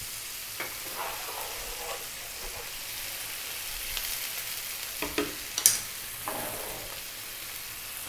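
Garlic ginger paste hisses in a pan over high heat with a broad, faint sizzle. Soft scrapes and clicks from stirring come through at intervals.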